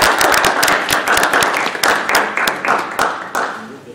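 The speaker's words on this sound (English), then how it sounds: "let's give our panelists a round of applause" Audience applause for panelists at a science fiction symposium session, a dense, steady patter of many hands with a few sharper claps standing out, fairly close and loud, tapering slightly toward the end.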